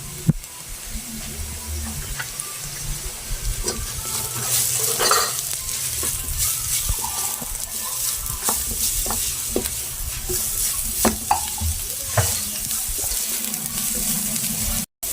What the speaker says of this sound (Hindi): अब मैं इसके अंदर गाजर डाल दूंगी